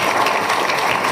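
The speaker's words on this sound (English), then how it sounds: "oh no, don't applaud." Audience applause at a spoken poetry reading about war, a steady dense clapping wash lasting about a second, fairly loud and close, with no talk over it.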